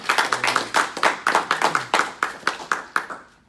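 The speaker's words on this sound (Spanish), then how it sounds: "Un aplauso para Cristo por la palabra" A small church congregation claps in quick, uneven bursts for a few seconds, close and crisp, fading out at the end.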